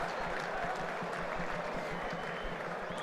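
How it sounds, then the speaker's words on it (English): Croatian supporters applaud in the stands during a Croatia versus Slovakia football match in 2007, a faint, distant, steady patter of crowd clapping spread evenly across the moment. "Applause from the Croatian supporters"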